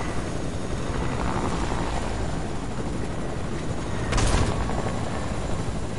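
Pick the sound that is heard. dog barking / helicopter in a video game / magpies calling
helicopter in a video game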